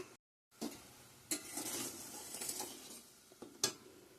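Water for a Bengali mustard fish curry comes to the boil in a pot, a soft bubbling hiss with a few clinks and scrapes cutting in, fairly close and with no talk.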